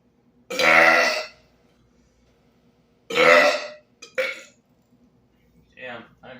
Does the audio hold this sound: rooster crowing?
no